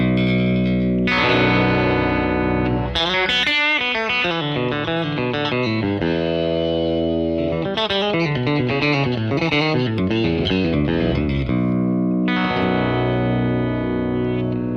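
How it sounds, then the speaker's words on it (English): A Fender baritone electric guitar with a Telecaster body and baritone neck plays low, gutty chords and single-note lines through effects, loud and close with ringing sustain, without talking. "this is this Fender baritone. Basically, it's a telly body with the baritone neck on it."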